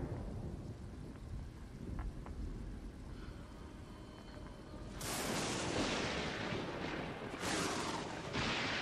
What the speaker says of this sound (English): And then the thunder.